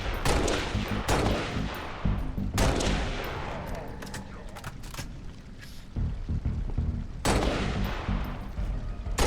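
Gunfire in Halo: Reach on Xbox 360 on Legendary difficulty: loud, close bursts of rapid shots and heavy booms come in waves with short lulls between them.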